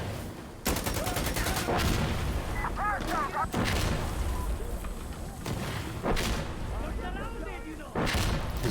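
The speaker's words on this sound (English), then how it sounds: "Chemical mortar." Chemical mortar strikes in Insurgency Sandstorm land as heavy booms in a battle, with several loud impacts spaced seconds apart over constant rumble and crackling gunfire, and a voice speaks briefly in between.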